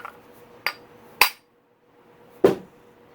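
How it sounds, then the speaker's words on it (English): A copper hammer strikes a Yamaha YZ250 crankshaft four times in an uneven rhythm: two lighter taps, then two sharp metallic hits with a brief ring, close and loud against a quiet workshop. "So you want to use a copper hammer."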